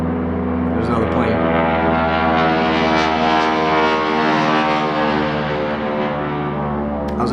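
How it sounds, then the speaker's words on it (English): A P-51 Mustang propeller airplane flies overhead, its loud droning engine swelling and then fading over several seconds, with someone talking underneath. "That was a P-51 Mustang."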